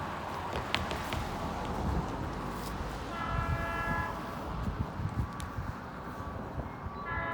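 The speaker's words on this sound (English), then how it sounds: "Oh, here comes the train right now." A train rumbles past up close, steady and heavy, with a brief horn-like tone rising over the noise midway through.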